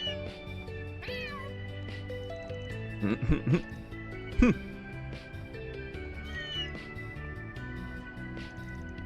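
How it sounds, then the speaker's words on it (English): A cat meows several times in the video game Kuro no Kiseki II, with distinct rising cries over steady game music and ambient tones, the loudest coming in quick bursts near the middle. "This is the boss cat from Center Marsh."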